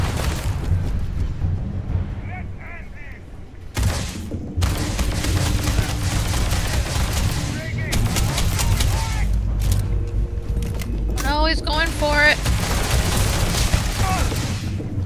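Laser pistol gunfire in Starfield, repeated sharp zapping shots and blasts in quick bursts over busy combat noise and effects.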